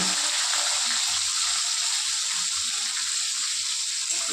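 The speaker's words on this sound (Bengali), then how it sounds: "তেল গরম হয়ে গেছে, এখন দিয়ে দেবো টমেটো কুচি।" Chopped tomatoes sizzling in hot oil for a vegetarian curry, a steady close frying hiss with faint crackles running the whole time and no talking.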